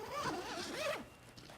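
The zipper on a Peak Design camera cube bag is pulled open in one quick, close ripping run of under a second, followed by quiet handling.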